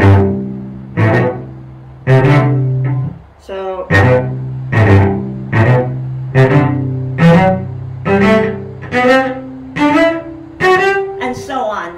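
A cello plays a quick series of bowed double stops, two notes sounding together in short repeated strokes, close and fairly loud with brief gaps between.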